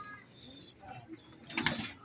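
Soft cooing from a racing pigeon back at its loft after a training flight in Gapan, Nueva Ecija, close and fairly quiet, with faint voices nearby.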